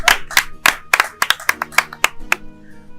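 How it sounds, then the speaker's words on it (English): Scattered handclaps from a small group of wedding guests, close and distinct, irregular and slowing toward the end as the clapping dies away. "A round of applause."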